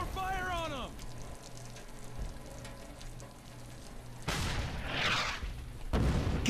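Gunfire and bazooka blasts ring out in the World War II video game Brothers In Arms: Hell's Highway. Sustained rumbling, crackling bursts swell loudly in the second half, with shouted voices mixed in beneath the combat noise.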